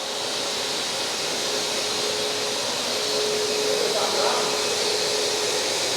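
A Numatic TT3450T vacuum cleaner runs steadily at close range with a loud, continuous whooshing drone as it sucks up debris, swelling slightly toward the end.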